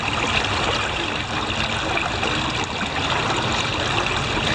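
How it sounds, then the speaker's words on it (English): Fast creek water rushes steadily through a gold sluice, a continuous close, loud wash and gurgle with no break and no voices. "The water's going fast enough to wash it down at a pretty good"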